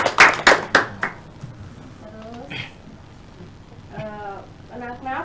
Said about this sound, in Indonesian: Baik Mas Rizky, tepuk tangan semuanya.